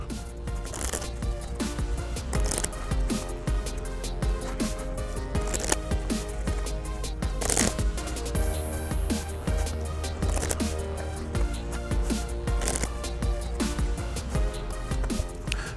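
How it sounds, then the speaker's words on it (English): Repeated riffling bursts of playing cards being shuffled, crisp and close, with a steady rhythm of snapping and flicking throughout. "I'm going to shuffle this up for us"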